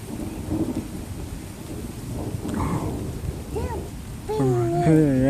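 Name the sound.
rain starting to fall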